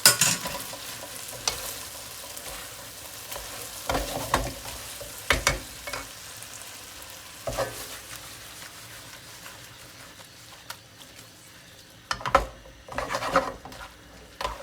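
Noodles being stir-fried in a pan over high heat, a steady close sizzle broken by repeated sharp clanks and scrapes of a utensil against the pan, with no one talking.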